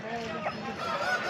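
Fowl call out amid the busy, steady din of the Pileru poultry market, where a Tamil Nadu breed chicken is on sale; the clucking and honk-like cries blend into dense crowd noise and murmur.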